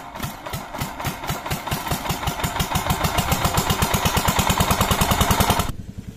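A farm water pump's engine catches and settles into a steady, rapid chugging beat that holds loud and close for several seconds before cutting off abruptly near the end.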